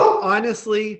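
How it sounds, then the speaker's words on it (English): A pet dog barks and yips close by in a home, several short loud barks tangled with a person talking over them. "hold on, that's my dog"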